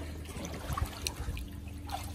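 Water sloshes and trickles quietly around a toy Titanic ship in rough play waves, faint irregular splashes with a few brighter drips scattered through.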